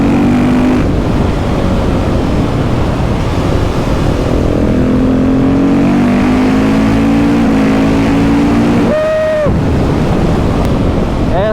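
Loud single-cylinder KTM 690 SMC R motorcycle engine with a Leo Vince exhaust on a Dolomites mountain pass, its note rising and falling through the gears under heavy wind rush, with a brief high tone near the end.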